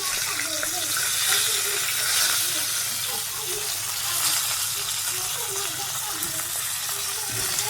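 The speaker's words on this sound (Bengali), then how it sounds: "আমার এই মাছ ভাজা হয়ে যাচ্ছে" Fish frying in a pan, a loud, continuous sizzle and crackle with a steady, hissing spray of sound, heard close and running without a break.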